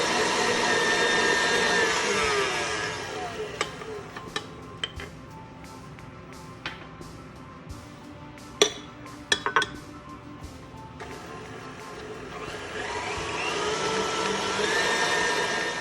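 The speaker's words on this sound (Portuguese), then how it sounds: "A outra forma é na batedeira. Usamos a vareta para bater a manteiga com o açúcar" A stand mixer with a whisk attachment beats butter and sugar for pastry dough, giving off a steady, fairly loud motor whir. Scattered metallic clinks and taps break in midway, and no one speaks.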